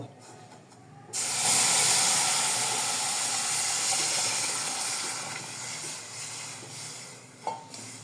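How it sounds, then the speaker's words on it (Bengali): Water poured into semolina in a hot pan sets off a sudden loud hiss that bursts in after a quiet start and then slowly fades, followed by a small clink. "তারপর সুজিতে পানি দিব"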